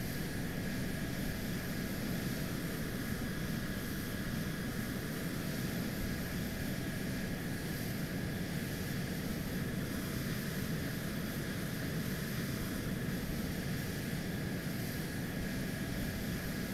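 An F-35-era military aircraft on final approach to a runway in a combat flight video game: a constant, loud engine roar and whine holds steady for the whole stretch, dense and unchanging, with no voices over it.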